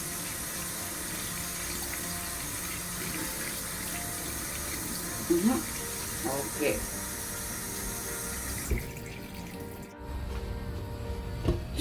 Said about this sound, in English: So I'm washing the rice in a strainer